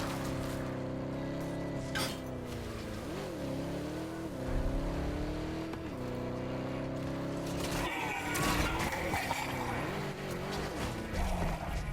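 A vehicle drives in the video game Helldivers 2, its engine hum rising and dipping as it accelerates and slows, with a burst of rougher, noisier crashing sounds partway through.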